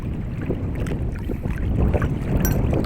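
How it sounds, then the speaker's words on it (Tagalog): A small boat moves across water, with steady washing and splashing over a rumble of wind buffeting the microphone. "tara guys tara sa ating bangka"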